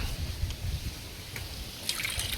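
Fresh coconut water from a coconut just picked from the tree being poured out, a close, steady trickling and gurgling stream of liquid with a brief splashier burst near the end.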